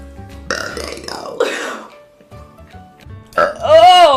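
A woman burps loudly several times in a row, long, deep eructations separated by short pauses, close to the microphone with no other sounds around them.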